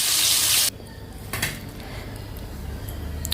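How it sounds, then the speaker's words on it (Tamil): Chicken pieces frying in hot oil for an Arabian-style kabsa give a loud burst of sizzling that stops sharply, followed by quieter clinks of utensils against the pan and a faint lingering crackle. "பாருங்கள், சிக்கன் வந்து ஃப்ரை பண்ணியாச்சு."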